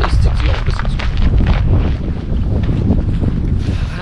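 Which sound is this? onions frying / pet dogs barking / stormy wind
stormy wind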